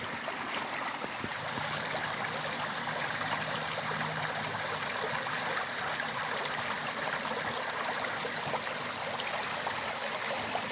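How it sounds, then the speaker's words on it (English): A small creek runs steadily around a bend on a wooded trail in Mukilteo, Washington, a continuous broadband rush and trickle close by, with no voices over it. "Let's check out this little bend in the creek here."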